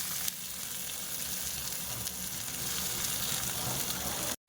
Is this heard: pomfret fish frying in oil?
yes